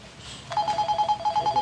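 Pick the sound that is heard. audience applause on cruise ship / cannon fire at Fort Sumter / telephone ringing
telephone ringing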